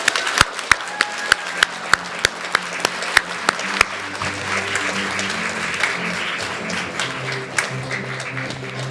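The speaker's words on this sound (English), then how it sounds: "Would you please give a nice warm round of applause to Victoria Fong." An audience at a youth speech competition for ages 7 to 8 breaks into applause after a speaker finishes. A few sharp, evenly spaced claps lead off and swell into a broad, sustained wash of clapping, with faint crowd murmur beneath.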